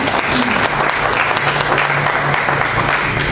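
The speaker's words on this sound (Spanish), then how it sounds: "Démosle ese fuerte aplauso de bienvenida." Sustained applause from a church congregation, dense steady clapping filling the room for the whole stretch, with no talk over it.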